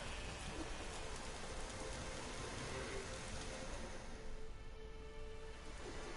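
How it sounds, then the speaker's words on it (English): Steady heavy rain pours in The Witcher 3: Wild Hunt, a dense continuous downpour drumming on surfaces, with no voices. "There's no point standing here in the rain."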